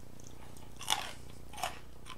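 Biting into crunchy Snyder's of Hanover buffalo-flavored pretzel pieces, two sharp close crunches about a second apart over faint chewing and quiet room noise.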